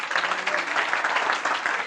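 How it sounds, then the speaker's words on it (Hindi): A church congregation at an Urdu sermon bursts into loud, dense applause, a continuous, even roar of many clapping hands lasting just under two seconds. "उसका जलाल के लिए जोरदार तालियां।"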